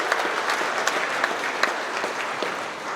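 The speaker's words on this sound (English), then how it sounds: "let's give a round of applause for our drivers" Indoor audience applause for hard-working truck drivers at a company's monthly celebration, a steady dense clapping crowd with a few sharper claps standing out, fairly close and continuous.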